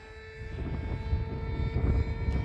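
An RC MiG 29 model jet flies at half throttle, a faint, steady whine with sustained tones over low rumbling wind noise, growing slightly louder across a brief moment.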